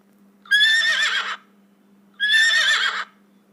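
Two long horse whinnies ring out, each about a second, separated by a short pause, loud and close over a faint steady hum, with no talk.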